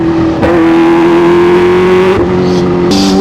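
A Kawasaki H2 with a Vandemon full-system exhaust pulls hard at half throttle. It gives a loud, steady, high-pitched engine howl, then a brief gear-change dip and a second surge, with close wind rush.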